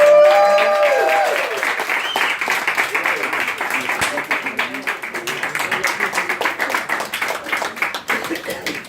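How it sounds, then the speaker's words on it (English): A live audience on a Carnival cruise ship breaks into applause. Dense clapping rises after a musical flourish, then continues steadily and trails off over several seconds. "how about a big round of applause?"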